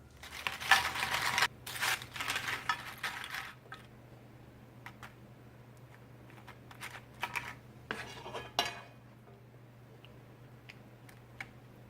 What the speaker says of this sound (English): I'm going to place about half of the tortilla chips into my baking dish